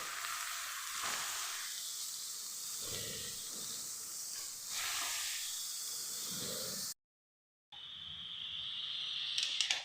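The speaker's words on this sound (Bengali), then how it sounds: "এবার আমি ঘিয়ের মধ্যে গাজরগুলোকে একটু সফট করে ভেজে নেব" Carrots sizzle and fry steadily in hot ghee for carrot halwa, a loud continuous hiss with stirring swells, broken by a brief silent gap before the frying resumes.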